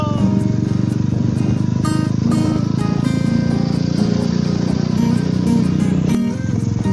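A motorcycle engine drones loud and steady in a close on-board perspective while riding and overtaking on a very narrow Western Ghats road between Coimbatore and Coonoor, with wind rush and a slight rev change near the end.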